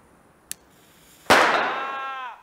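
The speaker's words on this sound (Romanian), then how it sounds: "Petarde, trei focuri, băieții mei." Firecrackers set off outdoors: a small sharp pop, then a moment later a loud close bang that rings and decays over about a second.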